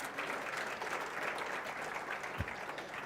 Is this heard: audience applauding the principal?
yes